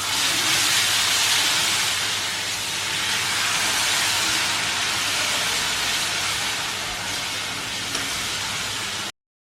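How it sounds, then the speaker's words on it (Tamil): Sugar syrup poured little by little into hot wheat (atta) halwa gives a loud, steady, close hiss of sizzling steam that holds for about nine seconds before cutting off. "இந்த சுகர் சிரப்பை கொஞ்சம் கொஞ்சமாக ஆட் பண்ணி கிண்ட போகிறோம்"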